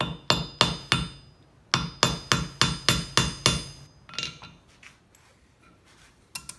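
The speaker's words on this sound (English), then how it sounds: "compress the leather and hammer it down" A hammer strikes a metal rivet through compressed leather on a lifting belt in quick, sharp, evenly spaced blows, about a dozen close taps, then a pause and a few softer knocks.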